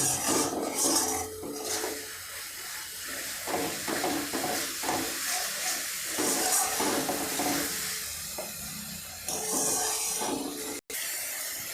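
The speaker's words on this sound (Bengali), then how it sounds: "এবার এই মশলাকে একটু ভালো করে ভেজে নিতে হবে" Spice paste for a Pangas catfish curry frying in a pan, giving a steady raspy sizzle and scraping texture that continues throughout, fairly close, with no talk over it.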